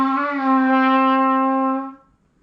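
A trumpet sounds one held note with the valves pressed only halfway, a brief tone of about two seconds that swells slightly and then stops, played alone.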